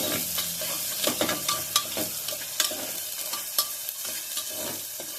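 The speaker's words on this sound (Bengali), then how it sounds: "এবার এটাকে লাল লাল করে ভেজে নিচ্ছি" Chopped onions fry in oil over a gas flame that has just been turned up, giving a continuous crackling sizzle with occasional spatula scrapes and stirs, close and fairly loud, with no talking.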